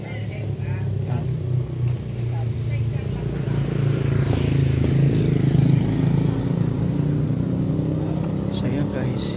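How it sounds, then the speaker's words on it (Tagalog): An XRM 125fi dual sport motorcycle engine runs with a steady low rumble throughout, heard close by, while someone talks over it. "So ito guys yung motor natin nagamit."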